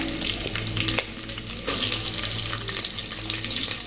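Chopped onion goes into hot oil already crackling with curry leaves in a pan, and a dense, hissing sizzle jumps up and continues loudly and steadily.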